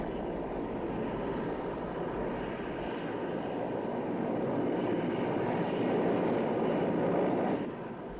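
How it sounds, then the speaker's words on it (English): A Mi-24 Hind gunship helicopter flies overhead, its steady, loud engine and rotor roar swelling toward the end before easing off, with no one speaking. "Here, an Mi-24 gunship flies over a Stinger well within range"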